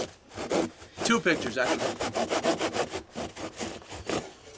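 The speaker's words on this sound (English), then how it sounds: "Sawing books is important." A hand saw rasping through books in rapid, even back-and-forth strokes, loud and close, while someone speaks briefly over the sawing.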